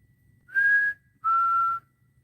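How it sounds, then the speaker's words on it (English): Two clear, steady whistled tones, one after the other with a short pause between, against a quiet low hum. "I did catch a whistle."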